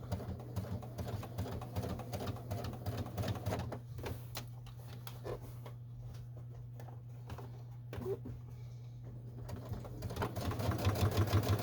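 A sewing machine runs top stitching along the edge of a Los Angeles Dodgers-inspired Whippersnapper bag, a steady motor hum with rapid needle ticking that slows, pauses briefly and then speeds up again.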